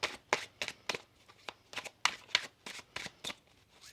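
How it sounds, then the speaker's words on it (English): Tarot cards are riffled and shuffled up close in quick, uneven bursts of crisp flicking and snapping. "One more shuffle."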